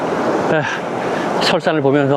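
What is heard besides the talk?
flowing water of a stream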